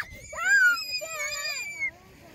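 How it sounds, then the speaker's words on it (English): Children let out high, drawn-out screams outdoors, two or three overlapping shrill wails close by that rise and waver before cutting off abruptly, with a quiet pause after. "Do you guys just like screaming?"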